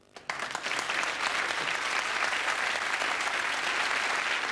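Sustained applause from a comedy show's studio audience, starting abruptly and holding steady, a dense wash of clapping hands.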